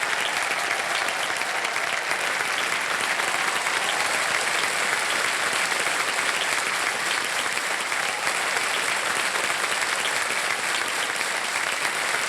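Studio audience of the quiz show KBC (Kaun Banega Crorepati) bursting into applause: thick, continuous clapping from a large crowd, even and loud for the whole stretch with no talking over it.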